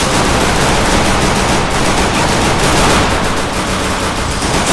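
Loud, dense pistol gunfire from the Free Fire MAX video game, continuous rapid shots filling the whole stretch with no talking.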